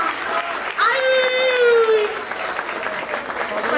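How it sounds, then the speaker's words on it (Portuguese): Crowd applause and cheering at a freestyle rap battle, dense clapping with whoops and a rising whistle, loud and close throughout. "Palmas!"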